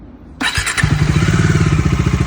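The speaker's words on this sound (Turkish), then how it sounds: "Çalıştır motoru." A Bajaj Dominar 250 motorcycle engine starts with a sharp crank and then settles into a loud, steady, pulsing idle close by.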